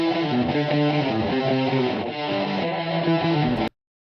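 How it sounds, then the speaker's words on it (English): Distorted electric guitar stem plays a loud, chugging melodic riff for several seconds before stopping abruptly into silence. "The original guitar stem sounds like this."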